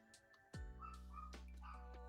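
A small dog yaps and barks in a few short bursts indoors, close and fairly loud, with a steady low hum underneath.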